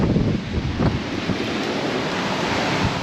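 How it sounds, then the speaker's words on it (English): Strong wind gusts at a British sea cliff, a loud continuous rumbling roar buffeting the microphone with no other clear sounds. "the wind is making it feel very outdoorsy"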